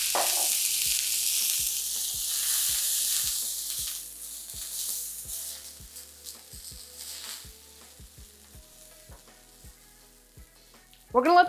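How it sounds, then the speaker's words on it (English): Sliced garlic sizzling in olive oil in a pan, a steady hissing fry that slowly quietens, with regular soft ticking pops underneath and a sudden clatter at the very end. "I'm just gonna throw some sliced garlic directly into the pan"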